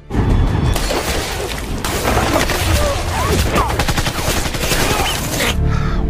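Gunfire in an Indonesian-narrated sniper action film scene at a border battle, a dense loud burst of shots and crashing impacts running continuously over several seconds with a brief voice underneath.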